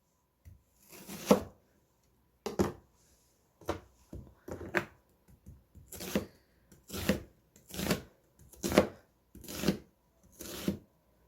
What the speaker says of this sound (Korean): 먼저 양파 썰게요.